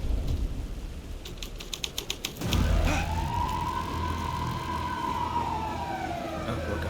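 A police car siren in the video game Alan Wake 2 starts with a few sharp clicks, then a loud wailing tone rises and holds steadily to the end.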